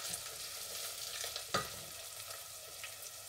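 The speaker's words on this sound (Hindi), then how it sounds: "प्याज को तब तक हम भूनेंगे स्लो हीट पे ताकि ये अच्छी तरह ब्राउन हो जाए" Onions frying slowly over low heat in oil for mutton kofta curry, a steady soft sizzle with a single brief clink midway and no voices.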